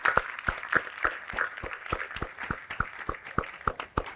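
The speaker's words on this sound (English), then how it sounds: "Please, another round of applause for our City Council." Applause for the City Council at a State of the City address. Quiet, fairly even claps come in a steady rhythm from a small audience, with no talking over them.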